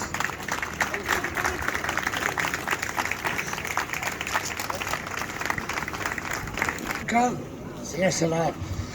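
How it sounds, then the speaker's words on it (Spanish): A crowd at a town festival proclamation in Galinduste bursts into sustained applause, many hands clapping loudly together, with voices murmuring beneath and a few shouts near the end. "Un gran aplauso para él, que se lo merece"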